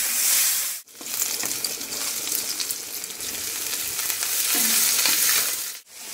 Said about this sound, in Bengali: এদিকে ঝোলটা ফুটে গেছে